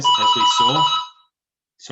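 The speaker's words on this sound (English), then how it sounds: "that was my doorbell ringing" An electronic doorbell chimes with bright, sustained ringing tones underneath a man's speech, then stops, leaving a short silence before he talks again.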